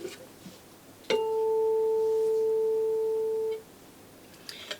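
A pure, steady 442 hertz electronic tone sounds for about two and a half seconds, clean and even, then stops abruptly in a quiet room.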